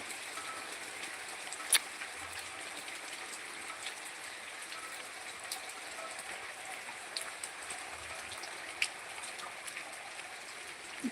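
Steady rain falling over a rice paddy field, a soft continuous hiss with occasional louder drips, fairly distant and even throughout, no talking.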